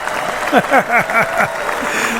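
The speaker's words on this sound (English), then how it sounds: "All right, nice round of applause for them." A studio audience on a sports talk show claps for College of Southern Nevada Athletics guests, steady dense clapping with a run of rising and falling whoops and cheers over it, close and fairly loud.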